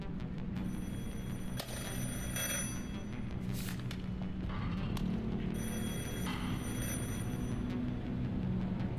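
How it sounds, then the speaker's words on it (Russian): A telephone rings in the video game Beholder 3, with bright repeating bell bursts sounding steadily over a dense, continuous game soundscape and no voices. "Срочно ответить на звонок."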